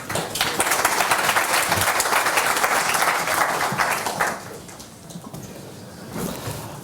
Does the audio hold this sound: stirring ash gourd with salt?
no